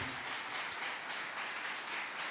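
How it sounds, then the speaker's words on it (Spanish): Congregation applauding during a church sermon, a steady wash of many hands clapping at low level throughout, with no voices standing out. "Dale un aplauso al Señor en este día"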